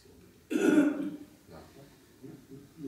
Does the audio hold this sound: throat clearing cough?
yes